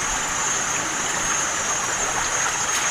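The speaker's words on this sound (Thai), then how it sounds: "น้ำน่าจะมีการไหลผ่านซอกเขาเข้ามานะครับ" Water runs steadily through a mountain crevice among clean, moss-free rocks, a continuous close rushing and gurgling with an even level from start to finish and no voices.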